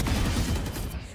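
Dense, rapid gunfire from an online shooter video game forms a continuous loud burst of overlapping shots and booms that fills the whole moment.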